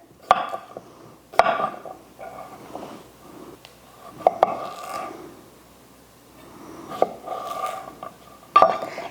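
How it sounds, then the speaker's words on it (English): A kitchen knife chops cucumbers for pickles on a cutting board, trimming the ends and halving them. Sharp, separate knocks come at an uneven pace, with soft scrapes and rustling between cuts, close and fairly quiet. "cutting the ends off of both sides and then just chopping them in half and then in half one more time"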